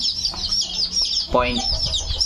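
Chicks peep in a dense, continuous chorus of high thin calls, close and steady, with a voice speaking briefly over them.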